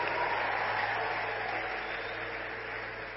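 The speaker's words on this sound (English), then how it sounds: "Somebody clap for Jesus." Congregation applauding at a church service, a dense steady patter of many hands that slowly thins and fades over a few seconds.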